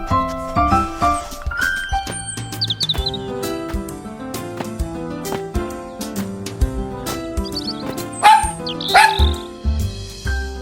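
A dog gives several short barks and yips, set against tonal music that plays throughout.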